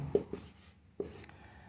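Chalk or a marker writes on a classroom board in a few short scratchy strokes, close and moderately quiet, with brief pauses between marks.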